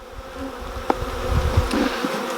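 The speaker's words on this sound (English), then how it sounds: "I do believe there's a lot of young bees in this colony." Honeybees buzzing in a colony inside a hive during a nuc transfer, a close continuous droning hum with individual bees flaring louder as they pass near.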